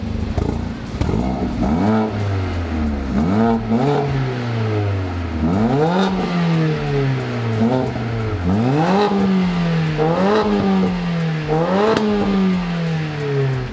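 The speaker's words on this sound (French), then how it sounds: "Là on est sur un V8 4 litres, tu vois." A 4-litre V8 engine revs repeatedly, each pull climbing in pitch then dropping back as it shifts, a throaty rising and falling roar with clattering edges, close and loud with no voices.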